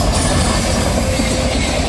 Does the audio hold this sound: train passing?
yes